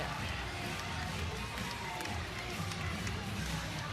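A gymnastics crowd at a UCLA home meet against Utah cheers a Bruin routine, a steady, dense wash of applause and shouting that holds at the same level throughout.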